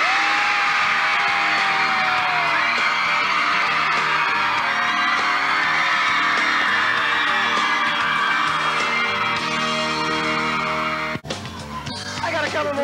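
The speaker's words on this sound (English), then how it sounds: "perhaps you could find it in your hearts to put your hands together for Mr. James Van Der Beek." A large live concert audience roars with sustained cheers, whoops and applause as a television actor is introduced on stage, the loud crowd noise filling the whole stretch before briefly dipping near the end.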